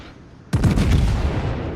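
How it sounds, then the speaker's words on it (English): Heavy naval gunfire from the warship Kaiser firing high-explosive shells in a naval combat game: one sudden loud blast with a long rumbling tail that fades slowly, with no talk. "Kaiser's firing HE."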